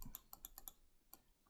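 Computer mouse clicking during digital painting in Photoshop: a quick run of about eight crisp, faint clicks in an uneven rhythm, close and quiet, with no talking.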